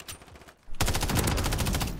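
A brief lull, then a rapid, loud string of gunfire from an automatic weapon in Call of Duty: Modern Warfare 3, shots crackling in quick succession.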